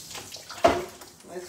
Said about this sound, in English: I'm going to squeeze the excess water out